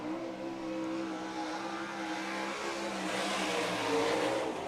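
A sprint car runs a lap on a dirt track during a USAC sprint car event at Red Hill Raceway, its engine a steady, sustained drone with a slight rise in pitch near the end.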